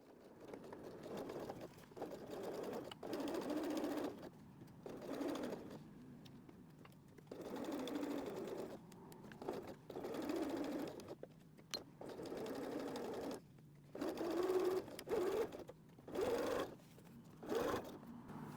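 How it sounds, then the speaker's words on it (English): A sewing machine stitches a generous eighth-inch seam on a fabric glasses case, running in repeated bursts of a few seconds each with short pauses between them, steady and close. "we're doing a generous 1/8 seam now"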